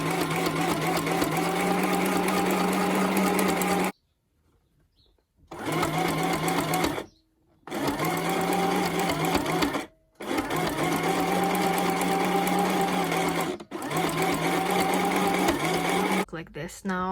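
A sewing machine runs a straight stitch across a cloth face mask in several long, steady bursts separated by short pauses, close and loud, with a final brief run at the end.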